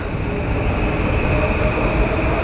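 Train passing close by with a loud, steady rumble of wheels and rail noise, plus a sustained metallic squeal along the track.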